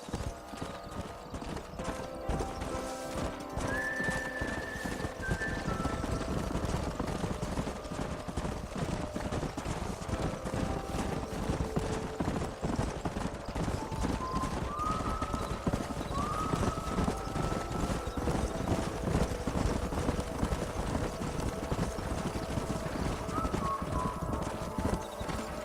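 Horses in the Red Dead Redemption video game gallop with a continuous, loud rapid clip-clop of hooves, under a few brief whinnies and game music.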